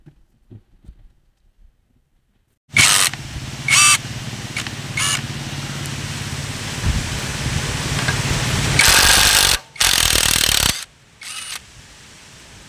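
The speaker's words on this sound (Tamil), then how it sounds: "இப்போ நம்ம இம்பேக்ட் ரிஞ்ச் போட்டு இதை அவுக்க போகிறோம்." Impact wrench loosening a nut on a Bullet Classic 350 motorcycle during a self-starter clutch overhaul: loud, harsh rattling bursts, a short one, another brief hit, then longer hammering bursts near the end over a steady workshop hum.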